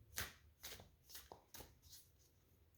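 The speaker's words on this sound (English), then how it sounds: "Did I shuffle this? Let me shuffle." Tarot cards being shuffled by hand give a few soft, papery riffling bursts in quick succession, quiet and close in an otherwise hushed room.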